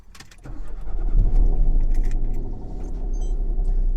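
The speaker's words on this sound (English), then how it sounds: "Let's start the engine so we're not draining the battery." A car engine starts with a short crank, then settles into a steady low idle that continues to the end.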